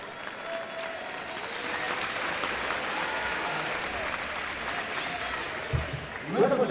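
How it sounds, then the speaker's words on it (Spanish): Crowd at a boxing match applauding both fighters, with steady, moderately loud clapping and murmuring through most of the stretch, and a voice coming in near the end. "vamos a dar un fuerte aplauso para ambos peleadores"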